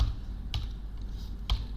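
Keystrokes on a computer keyboard while entering a netcat command, two sharp isolated taps a second apart over quiet room hum.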